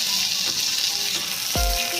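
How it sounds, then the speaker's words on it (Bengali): Sliced tomatoes go into a pan of browned frying onions, giving a steady close sizzle with one sharp scrape of a spoon near the end and no talking. "পেঁয়াজ লাল লাল করে ভাজা হলে এর মধ্যে দিয়ে দিচ্ছি স্লাইস করা টমেটো।"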